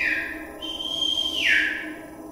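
Whistles sounding in a street, a long steady tone that shifts pitch partway through and swells near the end, fairly loud against a low background murmur.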